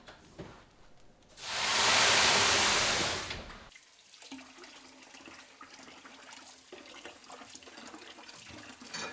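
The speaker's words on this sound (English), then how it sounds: "this is the last shot of water we're going to put in" Water poured into a hot oven while baking sourdough rye bread bursts into a loud, steady hiss of steam for about two seconds, then fades to quiet room noise with faint clatter.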